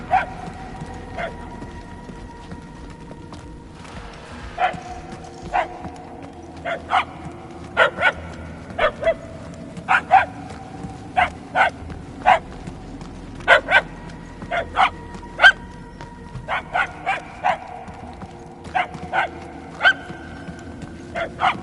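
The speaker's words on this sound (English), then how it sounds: "The barks are getting louder, at least." Puppies bark repeatedly in the Guardians of the Galaxy video game, short sharp yips arriving in irregular bursts across a quiet ambient background, moderately loud and fairly close, with no talk heard.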